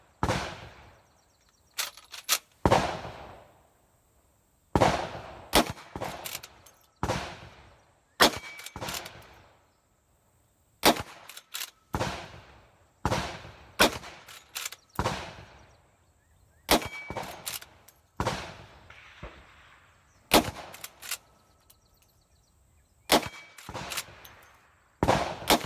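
A .357 Magnum lever-action rifle fires about eighteen sharp, loud shots at an outdoor range, each with a short ringing decay from steel targets. The shots come singly and in quick pairs, separated by brief pauses.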